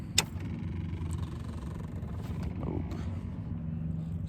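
A 5.3L truck V8 fitted with a stage 3 cam and no headers cranks and fires, then settles into a steady, lumpy idle rumble close by, with a brief sharp click at the start.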